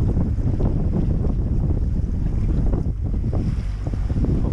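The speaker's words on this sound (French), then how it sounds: "Pourtant le vent est pas trop fort." Steady wind roars across the microphone over churning water and a low boat rumble off Cap Corse, Corsica, constant and loud with no voices.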